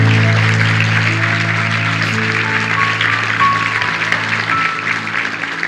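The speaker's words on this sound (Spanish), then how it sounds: "Si quiere, den un aplauso al Señor." Church congregation applauding during a Spanish-language sermon, a steady sustained clapping wash that holds at a fairly loud level throughout, with a low sustained tone underneath.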